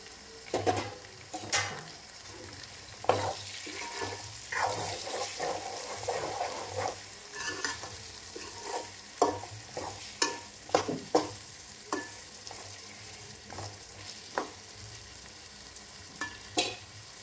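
Budankaya and tomato frying in a pan for a chicken curry, a soft sizzle under repeated scraping and stirring strokes that come in irregular bursts.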